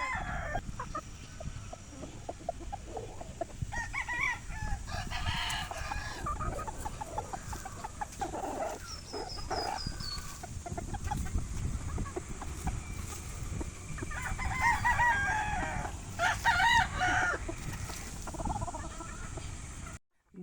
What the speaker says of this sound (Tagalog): Bandang tanghali ay Multilite Premium naman ang binigay ni J-Ferns sa mga cockerels